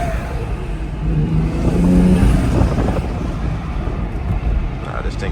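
A car fitted with an RK Tunes X3M front mount intake revs at night, a loud steady engine drone that swells around the middle and holds, with some wind noise on the microphone.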